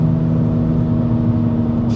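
Steady low droning hum from a worn front wheel bearing on a VW Lupo, recorded inside the car while cruising at around 80 km/h, with constant road and engine noise beneath it.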